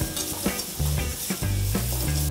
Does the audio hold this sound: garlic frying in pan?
yes